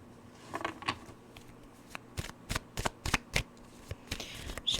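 Tarot cards being shuffled by hand nearby, a series of sharp riffling bursts and soft flutters in an irregular rhythm, fairly quiet with no talk.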